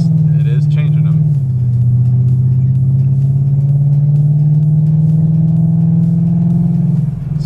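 A car with a high 3600-stall torque converter pulls away and accelerates, its engine drone loud and close, holding a steady rising tone through the gears before easing off at the end.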